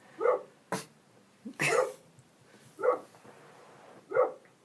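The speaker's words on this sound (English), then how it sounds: "Do you want me to talk over the dog barking?" A dog barking in the background during a conversation, five separate sharp barks spaced irregularly, moderately distant, heard alone without speech over them.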